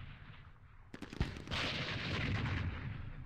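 Mortar fire aimed at a vehicle in a Middle East campaign war game: a few sharp cracks and a single heavy thump, followed by a sustained rumbling boom that lingers and fades slowly.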